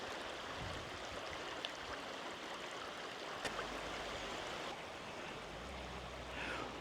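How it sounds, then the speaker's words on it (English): River water streams and burbles as someone wades across the Sulby River, a soft, steady gurgling wash with occasional splashes and no talk. "I'm actually going to wade through the river at this point and continue on the other side."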